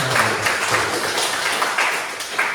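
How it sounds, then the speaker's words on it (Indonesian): Classmates clap for a presenter in a classroom, a steady dense patter of many hands lasting a few seconds with no voices over it. "Tepuk tangan untuk teman-teman"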